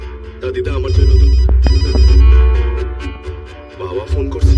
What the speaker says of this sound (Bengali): বাবা ফোন করছে।